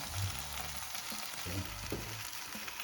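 Butter and flour frying in a pan for a roast beef gravy give a soft, continuous close sizzle with light crackle and a few stirring scrapes.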